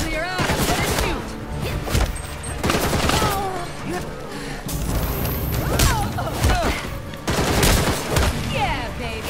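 Bursts of rapid gunfire and impacts in the video game Gotham Knights, set in a club, with repeated loud volleys and crashes over game sounds and overlapping voices.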